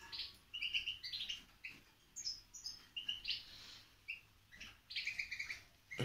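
Small birds chirp and tweet in quick bright bursts, several calls overlapping with short pauses, fairly faint against a quiet background.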